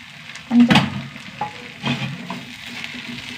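Masala being stirred in a pan, a spoon scraping and knocking against the metal with a sharp clank, followed by soft intermittent scrapes over a low sizzle.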